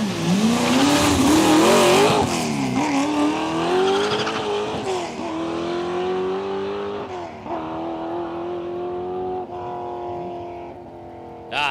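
A drag racing car makes a run at Palmyra Raceway, its engine screaming loud and near, climbing through gears with pitch sweeps and a brief tire squeal, then fading as it pulls away down the strip.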